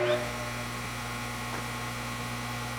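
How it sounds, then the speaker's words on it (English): Harig 6x12-inch handfeed surface grinder with its spindle running smooth and quiet, a steady low hum with faint mains buzz, close and continuous, no other sounds over it. "Barely hear that spindle. It's nice and smooth and quiet."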